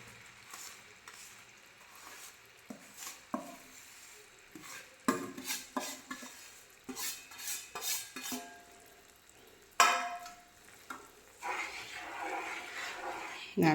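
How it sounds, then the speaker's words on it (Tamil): Bread halwa being stirred in a pan on the stove, with irregular scraping and stirring strokes over a soft frying sizzle, close and fairly loud, with occasional sharper clanks of the spoon against the pan. "நல்லா கிண்டி கொடுத்துடலாங்க"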